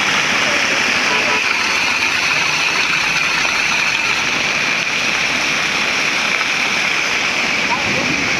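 Heavy rain pours and water floods across a road, making a loud, dense, unbroken rushing roar that stays close and steady throughout with no pauses or clear separate sounds.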